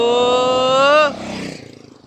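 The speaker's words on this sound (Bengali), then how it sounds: "দেখেছো পাপাই চালাচ্ছে বাইক এই দুটো" Two motorcycles' engines whine loudly up close, pitch sliding as they pass, then drop away into a rougher, fading putter, on a road with water on both sides in the Sundarbans.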